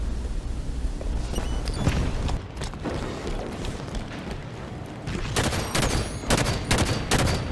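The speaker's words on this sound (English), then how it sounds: "Put a couple shots in this Banshee" Rapid bursts of gunfire in Halo 5 aimed at a Banshee, loud layered shots and booms crowding together, with a dense volley near the end.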